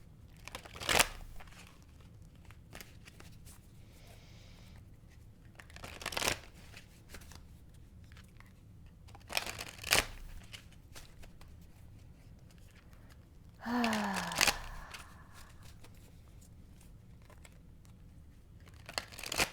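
Oracle cards from an animal deck shuffled by hand, a few soft riffling bursts spaced several seconds apart over a quiet room, with light crinkling in between.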